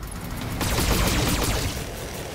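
A Demolisher tank fires its LB-10X autocannon in the Battletech video game, a loud, dense, rolling barrage of rapid impacts and blasts lasting a couple of seconds.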